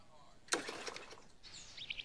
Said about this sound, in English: Don't be afraid of the birds. They're just as scared of you.